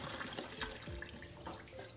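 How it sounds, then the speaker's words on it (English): Water poured from a cup for soaking soya beans to make tofu, a short, close, gurgling stream with small splashes, steady and moderately quiet, heard alone. "I'll use the same cup to put my water."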